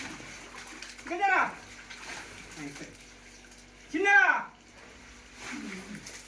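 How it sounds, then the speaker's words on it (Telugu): Water from a borewell pours steadily into a well on a farm, a constant rushing wash running throughout while a few short voices break in over it. "బోర్ నుంచే ఫుల్ వాటర్ వస్తున్నాయి."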